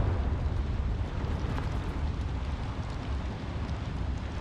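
A Confringo fire spell explodes in Hogwarts Legacy, a dense, rumbling blast that fills the whole stretch with steady, roaring, crackling noise and no pause.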